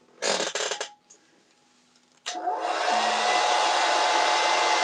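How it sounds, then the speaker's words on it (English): A hair dryer blasts steadily on freshly painted fishing lures, a loud continuous whooshing roar that starts abruptly after a few brief bumps and handling noises and holds to the end. "I'm gonna hit these with the hair dryer really quick."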